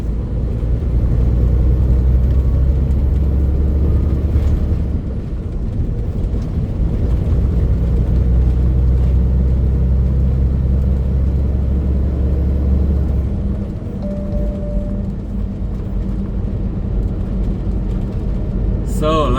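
A truck cruises south on Texas Highway 287 toward Dallas, its steady low engine and road rumble droning close and loud throughout, easing slightly near the end.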